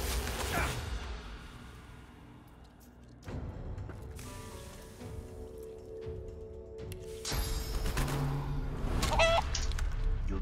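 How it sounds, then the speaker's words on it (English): Chicken clucking in the video game Divinity: Original Sin 2, a few scattered squawks and clucks that rise over a busy layer of game sound and grow louder toward the end, with no talking. "Die as a chicken."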